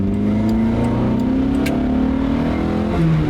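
The engine of a 1980s Honda CRX Si revs up under acceleration, its pitch climbing smoothly and steadily from inside the car, loud and continuous with no talk over it.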